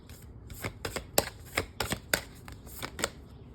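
Tarot cards being shuffled by hand, a run of crisp riffling and slapping bursts at an irregular rhythm, close and fairly loud, with no voices.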